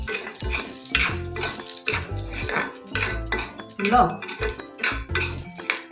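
Split yellow moong dal roasting in a pan, stirred steadily with a spoon so the dry lentils rattle and scrape against the metal in a repeated rhythmic pattern, close and fairly loud.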